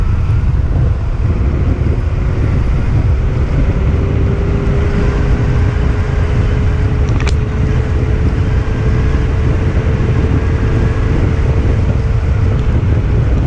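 Varla Eagle One electric scooter accelerating in third gear, a steady whine rising slowly in pitch over heavy wind rumble, loud and close throughout.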